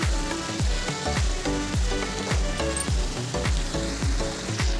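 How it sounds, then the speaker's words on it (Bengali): A spoon stirs chutney with salt and turmeric in a hot sizzling pan, giving a regular rhythm of scraping knocks, about two per second, over a constant frying hiss, with no speech. "নুন আর হলুদটা দিয়ে দিলাম। এখন একটু ভালো মতন করে নেড়ে চেড়ে ঢাকা দিয়ে রাখবো।"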